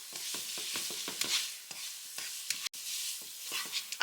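Cooked ramen noodles being stirred around in a sauce in a hot pan, with quick repeated scraping strokes over a steady bright sizzle, close and alone.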